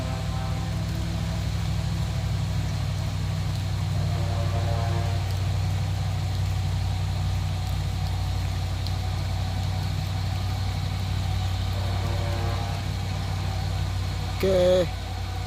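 A Pertamina tanker truck grinds slowly up a steep hill, its engine a steady low labored drone heard at a distance, with faint talk and a brief squeak near the end.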